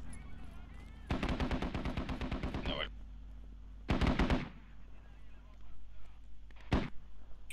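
Rapid automatic gunfire crackles in a multiplayer military shooter, a dense machine-gun burst followed by a shorter second burst and a single late shot, with faint voices talking between the volleys.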